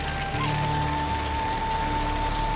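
Steady rain patters in a constant, even wash, with a faint sustained tone and low hum running underneath.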